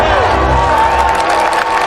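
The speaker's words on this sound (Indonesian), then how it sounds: "mereka mendapat sorakan bahagia dari warga New York" New York citizens cheering happily as the Ghostbusters emerge in a film, a dense, loud crowd roar with shouts blended into continuous music and ambience.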